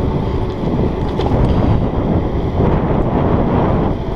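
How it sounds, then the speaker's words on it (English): Headwind buffeting the microphone while riding an electric kick scooter outdoors, a loud, continuous gusty roar with a heavy low rumble that rises and falls slightly, with no talking. "Today we have a headwind, which we didn't yesterday"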